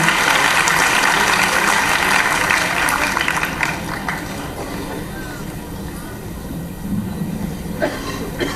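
An audience applauds at a World AIDS Day 2024 event in Indore. Thick, loud clapping fills the first few seconds, then thins to a lower level, with a voice speaking over it.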